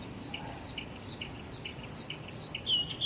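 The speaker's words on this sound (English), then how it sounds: "point out the bird that's up there on the chimney that's being super duper loud" A loud bird perched on a house chimney repeats sharp, high chirping calls in quick regular bursts, carrying clearly over steady outdoor background noise.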